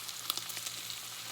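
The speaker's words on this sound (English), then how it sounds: "you want to brown every side of the roast" Pork roast browning in a hot pan, a faint steady sizzle with a few small crackles and pops, close by and without talking.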